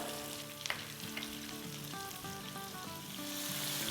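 Green chillies and fenugreek seeds fry in oil for an instant raw mango pickle, making a continuous soft sizzle beneath steady tonal music.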